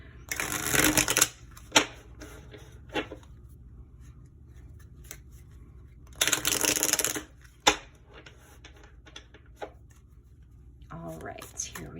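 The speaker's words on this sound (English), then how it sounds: "I've already pre-shuffled these, but we will go like 1 or 2 more times." Two loud bursts of tarot card shuffling, one near the start and one midway, separated by quieter handling clicks and taps up close.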